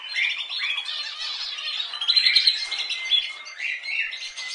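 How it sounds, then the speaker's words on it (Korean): Several birds chirp and twitter together in a busy, high-pitched chorus, continuous and moderately loud with no voices. "봄처녀가 새소리를 듣고 있습니다"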